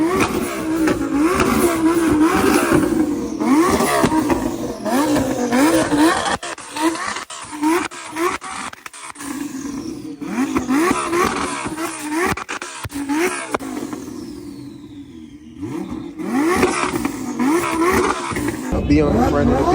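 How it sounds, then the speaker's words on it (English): An Audi engine revs loudly at a car show, rising and falling through repeated surges over many seconds, with people talking over and between the bursts. "Oh, it's an Audi."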